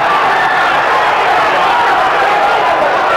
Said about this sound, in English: He's got the crowd yelling.